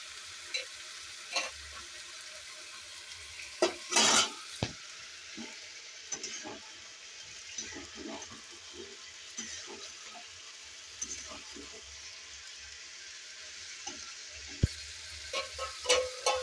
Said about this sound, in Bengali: এবার চিকেনগুলিও দিয়ে দেব, দিয়ে একটু ভালো করে নাড়াচাড়া করে নেব।